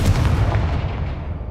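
A Confringo fire-blast spell from Hogwarts Legacy bursts with a loud, booming impact that rolls off and fades over about a second and a half, with no voices.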